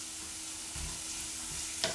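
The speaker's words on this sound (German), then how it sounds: "dann werden wir erstmal den Zwiebel anbraten" Onion frying in a pan for a potato and sauerkraut gratin, a soft steady sizzle running throughout, with a faint clatter of stirring near the end.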